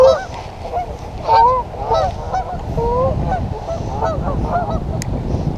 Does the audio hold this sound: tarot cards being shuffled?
no